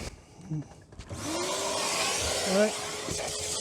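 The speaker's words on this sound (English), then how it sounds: "Then you normally just hoover it out." A vacuum cleaner starts up and runs steadily at close range, hoovering out car foot pedals, with a faint tonal whine over broadband noise and brief handling noises before it starts.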